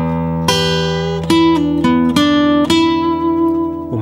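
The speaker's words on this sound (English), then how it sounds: "Okay, so that began with a classic double stop lick." An electric-sounding guitar plays a blues double stop lick in E, several plucked two-note attacks ringing out with sustained notes and short bends, clear and close with no talking.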